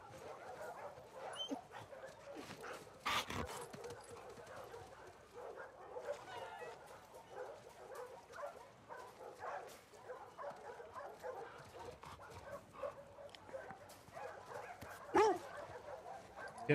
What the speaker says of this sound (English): This kind of makes me feel bad for killing the dogs.